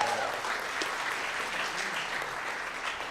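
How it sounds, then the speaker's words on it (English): Seminar attendees at a bartending event give the panel a round of applause, a steady, even hiss of many hands clapping that fills the short stretch without interruption. "Just big round of applause for the panel here tonight."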